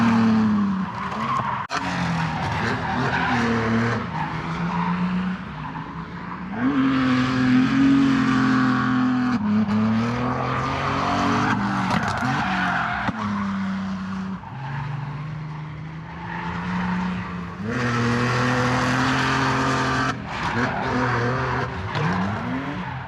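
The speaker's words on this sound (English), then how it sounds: "Check out some drifting while we're walking to the car park though." Cars drifting at Santa Pod raceway screech their tyres in long, loud, continuous skids, with engines revving and surging underneath as they slide past.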